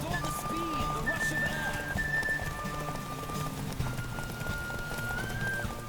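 Horse galloping in The Witcher 3 video game, rapid hoofbeats with a neigh and a whistle over game music, while a person talks throughout.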